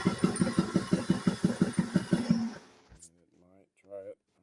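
A farm buggy engine cranks repeatedly without choke, about a dozen rapid rhythmic turnover pulses for two and a half seconds that fail to catch, then falls silent before someone speaks briefly.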